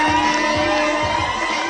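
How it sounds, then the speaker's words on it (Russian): A crowd at a Tatar sports tournament final cheers and shouts in a continuous, dense roar with rhythmic clapping pulses underneath. "давайте мы сейчас их встретим бурными овациями"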